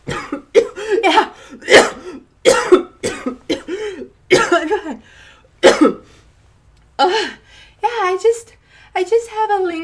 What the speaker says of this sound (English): I just have a lingering cough